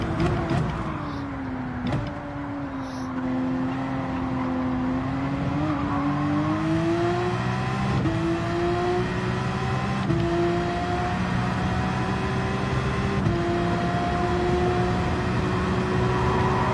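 Porsche race car engine in Gran Turismo 7 at Grand Valley Speedway, a loud sustained high-revving drone held flat out, pitch dipping briefly after a shift then climbing steadily with small gear-change steps.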